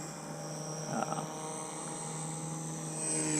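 A Blade 150 S RC helicopter hovers at a distance, a faint steady buzzing hum from its rotor and motor that holds constant throughout.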